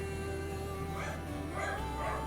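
A small dog yips and whines insistently indoors. Its high, repeated calls sit under a constant low hum and faint background sound.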